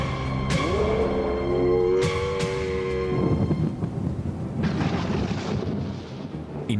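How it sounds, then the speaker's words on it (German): A violent storm rolls in with deep, rumbling thunder, followed by the steady hiss of torrential rain pouring down. Booming and loud at first, it settles into a continuous downpour. "In diesem Moment bricht ein gewaltiger Sturm los. Sintflutartige Regenfälle ergießen sich über das Land."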